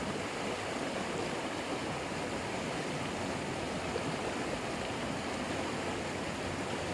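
A steady, continuous rush of flowing water in a small trout stream, even and unbroken throughout, with no voices.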